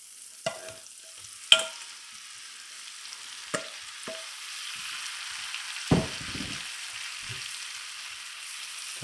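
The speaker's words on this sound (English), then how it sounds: "now what we're going to do is we're going to add the shrimp" Shrimp go into a hot pan of olive oil and partly melted butter. A few sharp clacks of pieces landing give way to a soft, building sizzle that runs quietly underneath, with no talk.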